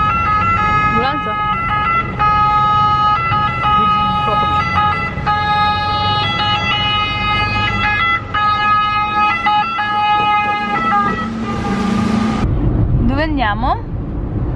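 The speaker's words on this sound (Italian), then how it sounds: "Ambulanza?" An ambulance siren wails in Venice, a loud, close, repeated two-tone pattern that holds for several seconds and then breaks into a faster, warbling sweep as a car passes.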